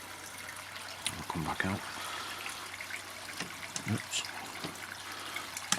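A waterfall spills into an ecosystem koi pond with a stream, giving a continuous trickling, splashing flow at close range, while someone speaks briefly over it.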